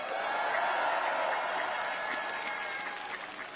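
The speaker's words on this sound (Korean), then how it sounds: "박수 한번 부탁드립니다" Crowd applause at an outdoor political campaign rally in Pyeongtaek, South Korea, a broad continuous clapping from many people that holds steady and then eases slightly toward the end.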